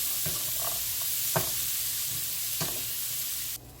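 Carrot and broccoli stir-frying in a pan, a steady broadband sizzle with a few soft scraping stirs from a utensil, no voices, cutting off abruptly near the end.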